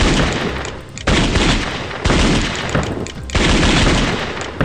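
Loud, rapid gunfire from a turret in a flash video game blasts at flying enemies in dense bursts, separated by brief gaps of about a second, with no other sounds.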